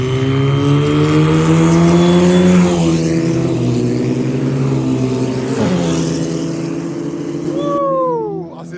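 Race cars roar past on a circuit at the GP Explorer event, loud engines revving and whining with shifting pitch, one passing close before another sweeps by with a rising then falling tone.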